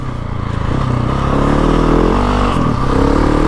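A GasGas ES 700 motorcycle engine runs loud and close in thick mud, its low steady drone rising and holding with light mechanical clatter, and no voices.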